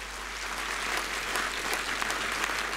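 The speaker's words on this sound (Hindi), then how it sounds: "तो तालियां तो जोर से बजाइए।" An audience at a religious welcome gathering bursts into loud, steady clapping, a dense continuous sound with no voices over it.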